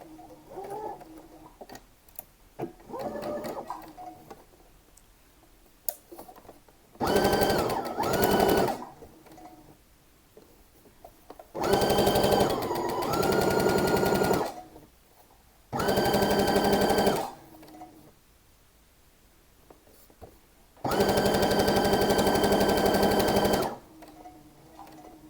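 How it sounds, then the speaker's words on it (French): Sewing machine stitching fabric in four loud bursts of rapid mechanical chatter, separated by quiet pauses with faint background noise. "je vais coudre à 1 cm"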